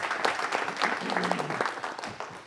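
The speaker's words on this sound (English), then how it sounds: "let's give her a round of applause" Audience applause at a council meeting: steady broadband clapping across the whole stretch with some voices mixed in, moderately loud and fairly close.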